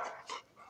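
A dog lets out a few short, close whimpering yelps with breathy panting between them, alone and fairly quiet.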